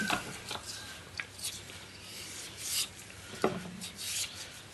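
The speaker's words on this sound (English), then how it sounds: "Sometimes you need a bit of sandpaper, it's got a little bit of an edge on this." Sandpaper rubbing the edge of a small N scale model building piece, soft close scratchy strokes in short irregular bursts, quiet with no voices.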